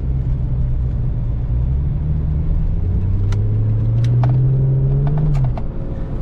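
A low-mileage car imported from America drives along, its engine humming steadily and rising in pitch, heard from inside the cabin with a few light clicks and no talking.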